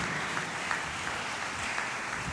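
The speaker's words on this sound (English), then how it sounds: "let's have a huge round of applause" Steady applause from the audience at a debate final round, a continuous wash of clapping at moderate distance with no speech over it.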